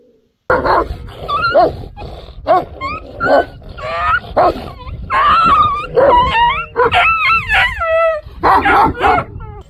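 Several Kangal sheep guard dogs barking, yipping and whimpering close by, with whiny rising howls mixed in, loud and continuous.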